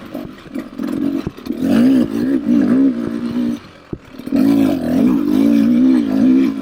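A 2024 Beta 300RR Race Edition two-stroke dirt bike ridden along a trail, its engine buzzing and revving in close, loud surges, briefly dropping off before climbing again.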